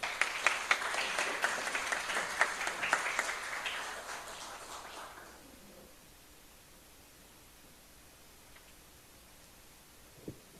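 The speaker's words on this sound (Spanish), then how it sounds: "Con un aplauso recibamos." An audience applauds to welcome a speaker at a tribute event for Gustavo Salazar; dense, lively clapping for about five seconds, then tapering off into near silence with a faint knock at the very end.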